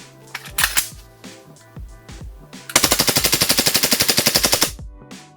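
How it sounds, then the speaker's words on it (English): A Huntsman Tactical H18c airsoft gas blowback pistol fires on full auto, a few sharp single clacks and handling clicks first, then a fast, loud, evenly spaced burst of about twenty rattling shots before stopping. "Let's go full auto."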